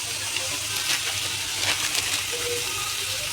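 Veg noodle momo filling being sautéed in a pan, a steady sizzling hiss with faint scraping and stirring throughout, close and continuous, with no talk.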